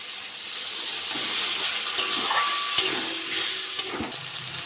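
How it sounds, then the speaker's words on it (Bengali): Spice masala with tomato and a splash of water frying and being stirred in a pan for a Bengali parshe fish curry, a steady close sizzle broken by a few scraping stirs, with no talking. "আমি সামান্য একটু জল দিয়ে ভালো করে কষে নেবো মশলাটা"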